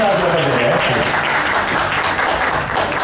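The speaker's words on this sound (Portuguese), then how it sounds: "Uma salva de palmas para nossa homenagem para a" An audience claps loudly and continuously in a tribute to a woman at a celebration, with voices mixed into the dense applause for about three seconds.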